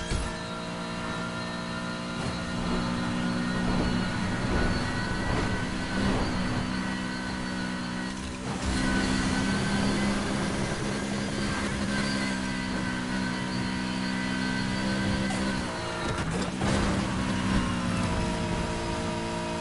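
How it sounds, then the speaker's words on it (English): A BMW in the racing game Need for Speed Heat revs and drones steadily, a loud sustained engine tone with shifts in pitch and brief surges around gear changes. "Listen to the engine."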